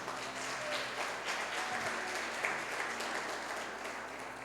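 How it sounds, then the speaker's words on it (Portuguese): A church congregation applauds during a sermon, a quiet, steady wash of clapping with a low hum underneath, fairly distant and even. "aplauda mais forte"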